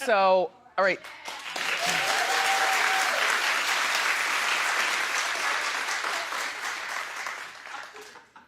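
Studio audience at a daytime talk show bursting into loud, sustained applause with some cheering, starting right after brief talk and fading out near the end.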